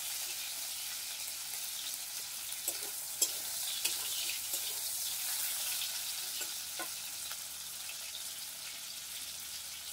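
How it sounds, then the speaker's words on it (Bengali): Shrimp lightly frying in a pan give a steady, close hiss of sizzling oil, with a few soft clinks and scrapes of stirring through the middle and no talking. "চিংড়ি মাছগুলো একটু হালকা ভাজা হয়ে এসছে।"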